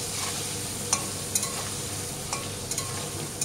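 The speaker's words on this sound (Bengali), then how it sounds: "লবণ হলুদ দিয়ে আলুটা ভেজে নেবো।" Potatoes frying in oil with salt and turmeric give a steady, moderate sizzle, punctuated by several sharp metallic clinks of a spatula against the pan.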